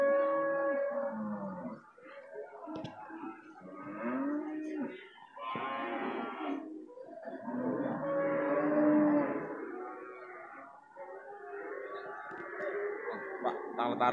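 Young beef cattle at the Siyono cattle market in Wonosari, Gunung Kidul, mooing loudly and repeatedly at close range, several drawn-out calls overlapping one another.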